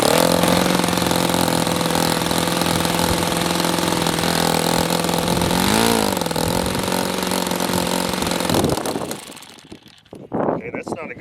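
An OS FS60 four-stroke model airplane engine fires up and runs at low throttle, giving a steady buzzing drone for about nine seconds before it sputters and cuts out, followed by brief handling noises.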